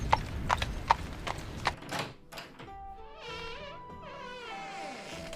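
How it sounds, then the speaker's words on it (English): Several hooves clop at an even walking pace on a hard surface, followed by a long, wavering creak of a door swinging open and then a soft thud as it shuts. "I believe I heard horse steps and a door creaking open and then shutting."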